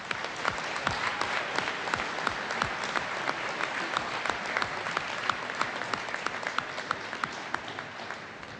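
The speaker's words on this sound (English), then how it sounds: "Turn around, graduates, and give them a round of applause." A large audience at a 2021 high school commencement gives a steady, dense round of applause that lasts the whole stretch without any talking over it.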